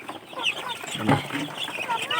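Chickens cluck and chirp close by among ducklings and chicks, a busy cluster of short calls overlapping in a village farmyard.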